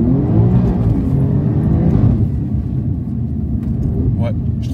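An Alfa Romeo Giulia Quadrifoglio, a 510-horsepower Italian sedan, accelerates hard on a rough track, its loud, dense engine roar filling the cabin and easing slightly midway.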